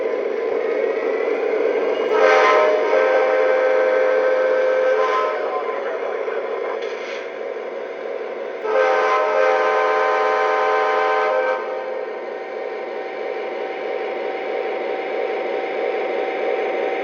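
A Lionel TMCC command-controlled model train locomotive from 2005 gives off steady electronic running sound under repeated whistle blasts, two longer toots standing out over a constant hum.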